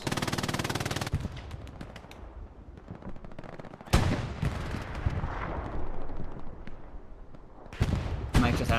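Rapid bursts of gunfire and heavy booming blasts in a Hell Let Loose World War II battle, loud and close, with a steady machine-gun rattle giving way to irregular explosive impacts.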